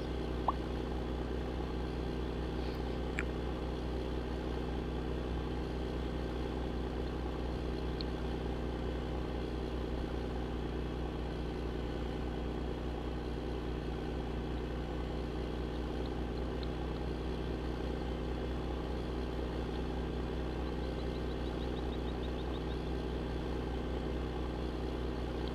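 Tractor engine in Farming Simulator 2015 during bale stacking, a steady, even drone with a low rumbling hum that holds at the same level throughout, alone with no talk.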